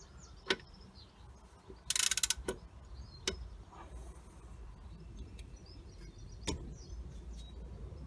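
A ratchet wrench clicks while loosening the 15mm front brake caliper bolts on a Jaguar X-Type, giving sparse mechanical ticks and one brief rapid burst of ratcheting, close and fairly quiet with no talk.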